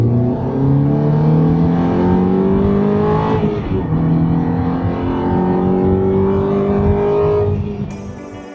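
A Ferrari F430 engine revs and pulls hard, loud and close, its tone climbing through a gear, easing briefly and rising again before it fades slightly at the end.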